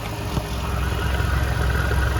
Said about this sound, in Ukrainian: Двигун також все працює тихенько, все ідеально